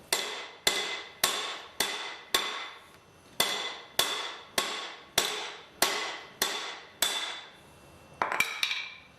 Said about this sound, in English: You could possibly even go ahead and thread your nut on there and hammer the nut.